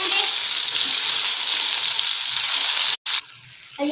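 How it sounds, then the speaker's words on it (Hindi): Tomatoes go into hot oil with garlic for tomato chutney, setting off a loud, dense, continuous sizzle close by that cuts out abruptly near the end and returns quieter. "अब हम इसमें टमाटर डालेंगे।"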